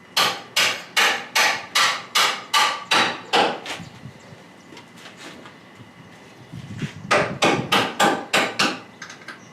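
Steady hammer blows drive a pin into a lift, a regular run of sharp metallic strikes, a quieter pause, then another quick series of close, loud hits.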